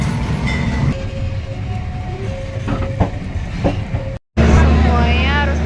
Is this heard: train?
yes